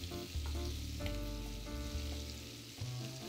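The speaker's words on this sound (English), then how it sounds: "while it's searing, it's locking in the flavor on the shrimp" Shrimp seasoned with adobo sear in a hot pan, a steady close sizzle with a low tonal hum underneath, fairly loud and continuous with no voices.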